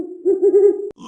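A great horned owl gives a deep, soft hooting call, one short run of low hoots close by and clear, cut off by a brief click near the end.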